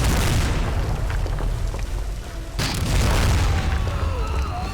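Howitzer cannon fire in the World War II shooter Medal of Honor Rising Sun, loud rumbling booms over continuous battle noise, with a fresh sharp blast midway followed by rolling echo.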